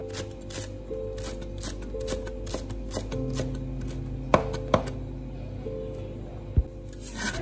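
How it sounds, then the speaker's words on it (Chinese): Coriander being chopped into short pieces with a knife on a cutting board, steady quick thuds against a low background hum, a few sharper knocks standing out, no talking. "将香菜也切成小段。"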